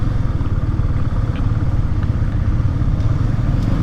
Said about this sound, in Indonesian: Ini kondisinya masih bagus motor ini.